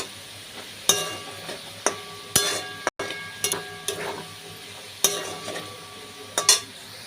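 A spoon stirs bay leaf and cumin in a pan for a vegetarian ghugni, giving repeated sharp scrapes and clanks against the metal at irregular intervals over a soft background hiss.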